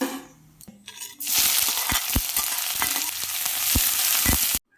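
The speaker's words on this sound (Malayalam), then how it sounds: "ഇതിലേക്ക് 1 ടേബിൾ സ്പൂൺ വെളിച്ചെണ്ണ ഒഴിച്ച് ചൂടാകുമ്പോൾ 1/2 ടീസ്പൂൺ കടുക് ചേർക്കാം" Mustard seeds and fennel seeds sizzle and splutter in hot coconut oil in a pan. A loud, steady frying hiss sets in after a quiet moment, scattered sharp pops crackle through it, and it cuts off abruptly at the end.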